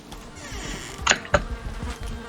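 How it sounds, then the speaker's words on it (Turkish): A steady electronic-sounding bee buzz drones throughout, with two sharper clicking accents in the middle; no talking. Bees in the video game Valheim. "Arılar kızdı ama kime kızıyor?"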